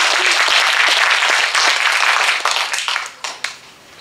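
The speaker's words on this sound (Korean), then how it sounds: "다시 한번 감사의 박수 부탁드립니다." An audience at a literary festival near Jirisan gives a poet a round of thanks, the dense clapping close and full at first, then thinning into scattered final claps that trail off within four seconds.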